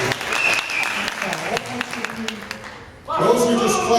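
An audience at a live quartet performance bursts into applause, a dense crowd clapping that carries on through a dip and then swells louder near the end, with voices mixed in.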